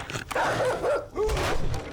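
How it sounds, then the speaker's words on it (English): A dog barks and whines inside a video game during combat, a few short yelping cries with a tonal whine, close and fairly loud over game noise. "It's going to take that dog a minute."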